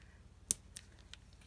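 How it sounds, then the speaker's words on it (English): Westcott non-stick scissors cut through card paper in a few quick, crisp snips: one sharp close cut, then two fainter ones over a low steady background hum. "Those Westcott non-stick scissors from Walmart were not really super expensive."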